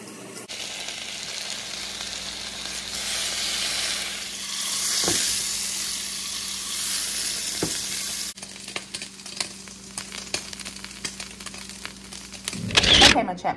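Turkey bacon and eggs sizzle and crackle in a frying pan, a steady hiss with a few scraping stirs and clinks, ending in a brief louder clatter.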